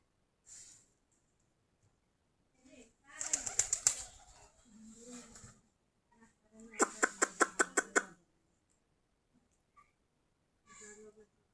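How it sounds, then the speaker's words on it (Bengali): Local domestic pigeons in a flock of about 45 pairs, with soft low cooing and two bursts of rapid wing flapping close by, separated by quiet gaps and faint snorting breaths. "আমাদের সবগুলা দেশি কবুতর, অন্য কোনো জাত নেই এখানে।"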